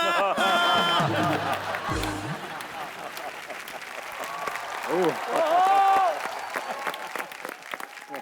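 A studio audience at a Hindi comedy show claps, with a voice and a brief musical sting at the start, then a swelling round of applause and cheers mixed with talk.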